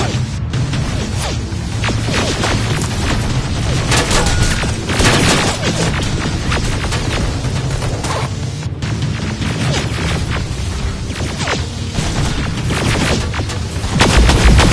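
Grenade blasts and gunfire in Terminator: Resistance on PS4, a loud, continuous barrage of booms and rattling shots layered densely throughout, with a heavier thump at the very end.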